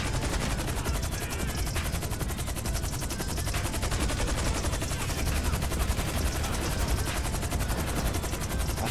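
Automatic gunfire in the GTA 5 video game rattles nonstop in dense, rapid bursts for the whole stretch, loud and close with a low rumbling bed underneath.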